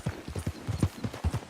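Horse hooves clip-clop in rhythmic pairs on the ground in the Red Dead Redemption 2 video game, a steady close trot with no talk over it.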